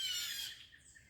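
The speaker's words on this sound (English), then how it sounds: "So that's why the blue jays, you can hear them, are upset." Blue jays squawk harshly at an owl outdoors near a cranberry bog, a loud rasping call that fades into fainter, more distant squawks.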